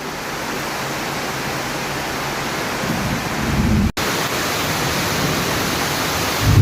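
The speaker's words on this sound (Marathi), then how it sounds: "पाऊस एवढा प्रचंड आहे आणि वीज पण एवढी भयानक होते" Steady, dense rain roaring without a break during a thunderstorm, a loud broadband wash that swells slightly toward the end, with no voices.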